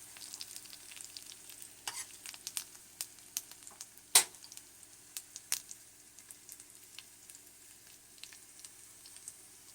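Curry leaves and shallots frying in oil for a Kerala prawn curry, a soft sputtering sizzle with scattered pops and crackles, one sharp loud spit partway through, close and alone.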